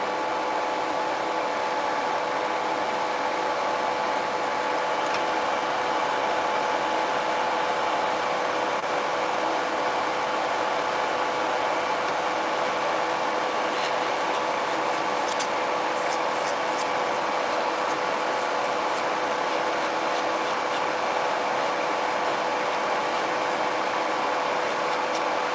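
A steady, high-pitched electric whir from an electric nail drill set to low speed buffing nails, running continuously, a small motor humming at constant speed, with faint intermittent clicking partway through.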